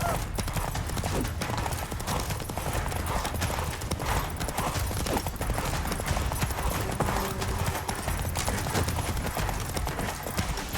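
A horse gallops in The Witcher 3 video game, a fast, continuous clip-clop of hooves at moderate volume with faint game sounds mixed in.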